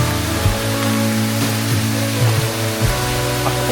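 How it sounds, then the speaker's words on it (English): A small waterfall flows on the Waterfall trail in White Tank Regional Park, a desert park, giving a steady, close rushing and splashing of water with no voices. "cool little waterfall"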